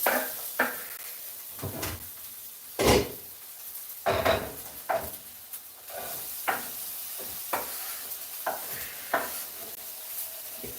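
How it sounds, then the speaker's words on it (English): Potatoes fry and sizzle in two pans, with a steady hiss broken by repeated clattering knocks of pans and stirring, close and fairly loud with no talk. "Now let's add some potatoes to each of these pans."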